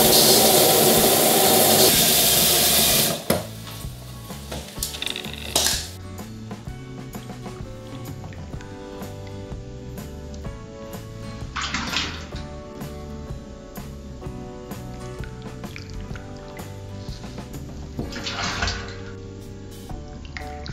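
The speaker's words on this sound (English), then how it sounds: "Then you spray it out of the hose." Water and cleaner spraying from a tank sprayer hose, starting with a loud continuous hiss for about three seconds, followed by intermittent sputtering bursts, drips and splashes.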